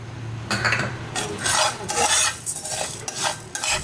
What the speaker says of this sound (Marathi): आता मेथी दाणे टाकूया आपण